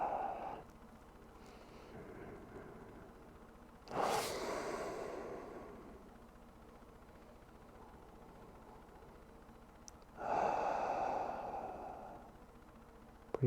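Deep breathing during a yoga stretching session: two long, airy breaths, each swelling suddenly and slowly fading, close and fairly quiet, spaced several seconds apart over a soft background hiss.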